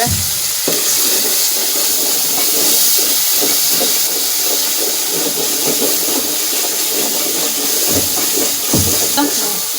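Beef liver and chana dal sautéing in a pan, a steady close hiss and sizzle with intermittent stirring scrapes and knocks throughout, loud and continuous without pauses.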